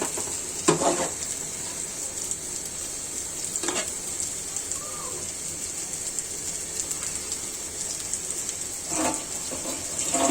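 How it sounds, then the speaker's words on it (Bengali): Cardamom, black pepper and cloves frying in a pan, a continuous soft sizzle with a few brief louder spatters and stirring scrapes, close and moderately quiet, with no talking. "এলাচ আছে গোলমরিচ আছে লং আছে কষিয়ে নেবেন এভাবে ভালো করে"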